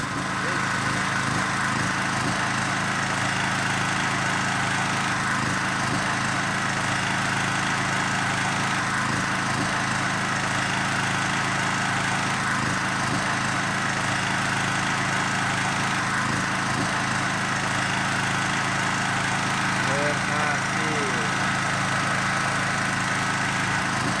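A petrol genset converted to auto choke runs steadily after its start button is pressed, a continuous droning engine hum with a slight rhythmic pulse, loud and unbroken for the whole stretch.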